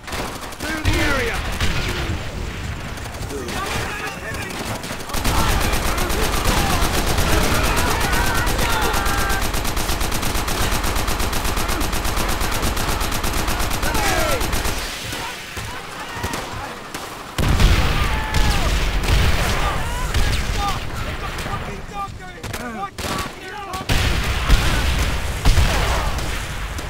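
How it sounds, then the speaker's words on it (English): Machine gun fire in the video game Call of Duty: World at War, with long sustained bursts of dense automatic gunfire, booms and battlefield chaos. Shouted voices come in between the bursts. "Open fire! Miller, man that MG!"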